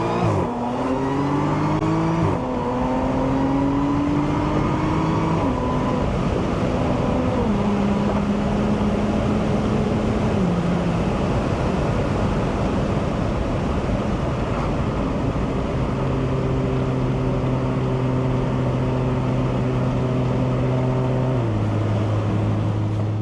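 A 400 HP Audi S4 accelerates hard, its engine climbing in pitch through several gear shifts, each rise dropping back before climbing again, loud and continuous from inside the car.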